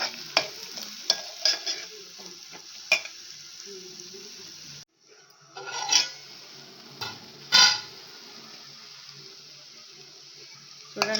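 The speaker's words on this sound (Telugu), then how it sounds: "పసుపు కూడా నూనెలో వేగేంత వరకు మనం బాగా కలుపుకోవాలి." Turmeric sizzles in hot oil while a spoon stirs it, bursts of scraping and crackle rising and falling over a soft frying hiss, with a short quiet gap midway.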